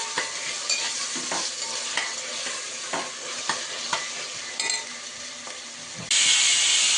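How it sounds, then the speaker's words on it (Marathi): Sliced onion and curry leaves sautéing in a pan, a close, steady sizzle broken by repeated scraping stirs of a spatula, swelling into a louder hiss near the end. "कढीपत्ता टाकायचा, हा कांदा ना चांगला परतून घ्यायचा मैत्रिणींना."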